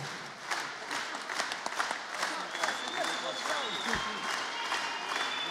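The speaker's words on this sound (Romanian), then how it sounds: "Sunt aplauze care valorează cât 25 de ani de activitate" Concert audience applauding a folk ensemble at its 25th anniversary show, sustained even clapping from a large crowd, fairly distant and steady, with a voice speaking over it.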